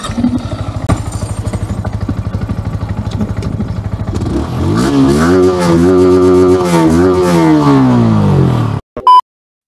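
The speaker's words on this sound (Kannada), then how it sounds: "ಈಗ ಸ್ವಲ್ಪ ಎಕ್ಸಾಸ್ಟ್ ನೋಟ್ ಕೇಳಿ ಯಾವ ಥರ ಇದೆ." A Yamaha R15 V4 155cc motorcycle idles with a steady low exhaust pulse, then revs up loudly in rising and falling sweeps before cutting off abruptly near the end.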